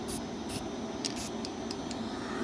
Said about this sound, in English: Spray and then heat, spray and then heat.